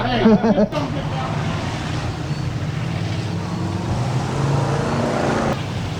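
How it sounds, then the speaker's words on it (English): Engines of cars in a figure eight race at a rural Iowa track rumble and roar steadily throughout, with crowd babble and a brief voice near the start. "you can hear the engines roaring, the figure eight race"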